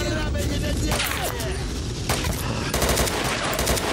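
Rapid gunfire in the shooter S.T.A.L.K.E.R. Shadow of Chernobyl, dense bursts of automatic weapons crackling almost continuously, close and loud, with sharp separate reports standing out.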